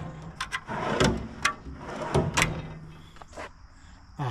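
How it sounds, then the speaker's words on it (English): Several tool chest drawers slide open and shut in turn, a run of sharp metallic clacks and rolling slides, close and fairly loud, with short pauses between bumps. "These drawers open up perfectly."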